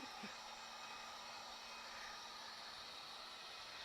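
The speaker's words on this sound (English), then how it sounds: "I got my super duper dryer, which you have to be really careful with" A hair dryer blows steadily to dry paint on a DIY fall porch sign, giving a close, continuous whooshing roar that stays even throughout with no talk.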